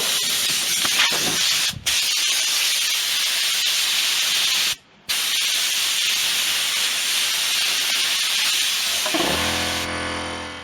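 A repaired air compressor with a fixed intake reed valve runs with a loud, steady hissing rush, cut by two brief dropouts, then winds down into a lower humming tone near the end.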